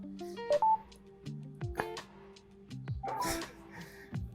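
Dialing tones from a Samsung phone sound as a rapid run of short, clear DTMF beeps, near and distinct, with a few separate bursts and a brief voice in between.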